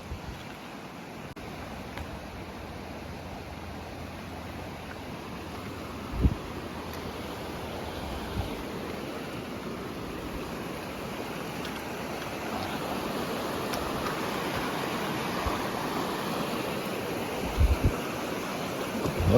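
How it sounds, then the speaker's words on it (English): High creek water at Breccia Creek in Jasper National Park rushes steadily nearby as a broad, continuous roar that swells slightly louder toward the end, with a few faint knocks and no speech. "Oh my God, the water's high."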